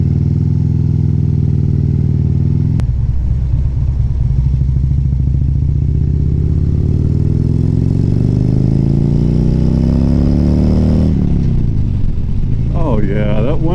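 Harley-Davidson Road Glide with a 103 engine cruising at about 70 mph, a steady low engine drone with wind roar throughout, one gear shift, and a voice talking over it near the end.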